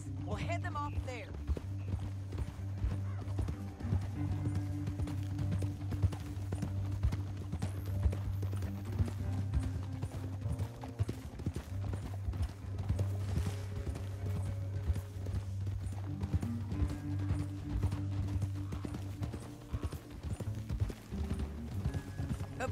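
Steady clip-clop of horse hooves at a trotting pace in Red Dead Redemption 2 runs throughout, over a low droning musical score, with occasional voices.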